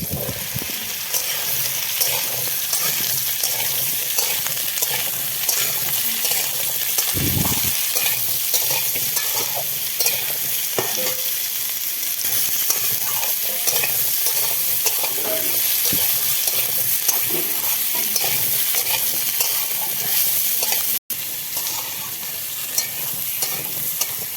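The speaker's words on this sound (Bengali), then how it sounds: "পাঁচ ফোড়ন এখন দিয়ে দেবো আমগুলো" Mango pieces fry loudly in hot oil with panch phoron for pickle, a steady close sizzle with scraping stirs throughout and one brief break near the end.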